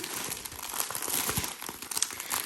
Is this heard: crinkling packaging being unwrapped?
yes